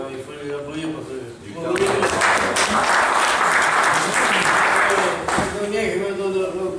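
Applause breaks out for two first-time competitors at a Saint Clair dog-training brevet event, a dense wash of clapping from a crowd that swells and holds steady, with talk before and after and voices mixed in throughout.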